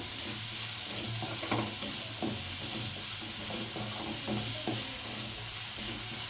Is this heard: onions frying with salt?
yes